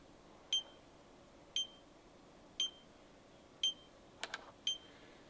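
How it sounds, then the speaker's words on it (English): Five short electronic beeps spaced about a second apart from a SimpliSafe home alarm's entry delay after a door opens, with a brief clatter near the end over a quiet room background. "And now you can hear this beeping. So that's telling me that I need to enter my PIN."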